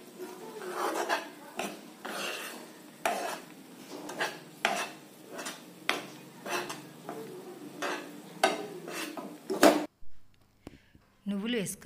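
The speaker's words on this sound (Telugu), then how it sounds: "మొత్తం యాడ్ చేసుకుని మొత్తం మంచిగా కలిసిపోయేలాగా తిప్పుకోవాలి" A spoon stirs and scrapes through a thick palli barfi mixture of peanuts in a pan, giving repeated rhythmic scraping strokes at a steady pace before a brief pause and a final clank near the end, with a voice speaking at times.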